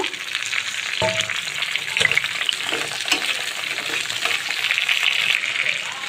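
Chopped jalphai (Indian olives) drop into hot oil in a pan with a bay leaf and start a loud, steady sizzle, with a clatter as they land and a few stirring scrapes, close up and with no voices.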